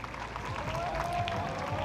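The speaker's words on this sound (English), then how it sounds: "Oh, the warm applause for Usain Bolt." Crowd at Borussia Dortmund training applauding Usain Bolt, a soft, continuous patter of distant clapping and murmuring spectators, fairly faint and even across the short stretch.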